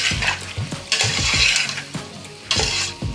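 Gongura chicken curry masala stirred in a pan, a spoon scraping and clacking against metal in bursts over a steady sizzle, close and fairly loud.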